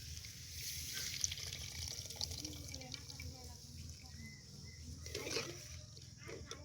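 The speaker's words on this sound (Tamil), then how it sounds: "நம்ம வந்து புளி கரைச்சி வச்சுருக்கதை ஊற்றிடலாம்." Dissolved tamarind water pours into a cooking pan for perandai soup, a faint, continuous liquid trickle and splash that runs throughout.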